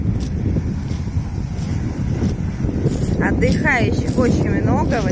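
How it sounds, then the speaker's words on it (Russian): Wind buffeting a microphone on a pebble beach beside the sea near an abandoned hotel in Kemer, Antalya, a continuous rough low roar with gusting swells and some faint tonal whistling toward the end. "Ветер."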